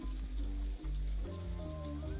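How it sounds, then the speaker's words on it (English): Steady rain patters continuously within a video game's soundscape, a soft wash of drops layered under low music tones, with no voices. "I don't often hear the rain in this game"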